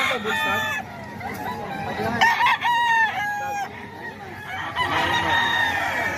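A National Banded gamefowl rooster crows several times nearby, loud and drawn out, amid clucking hens and background voices at a busy outdoor poultry spot.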